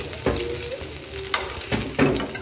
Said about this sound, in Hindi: ये देखें आप कितनी जल्दी ये फ्राई हो रहे हैं।